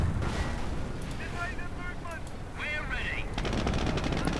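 Machine gun fire in a World War II strategy video game, rapid bursts and explosions crackling among other battle effects with a short whooshing sweep, dense and fairly loud, with a voice talking in the background.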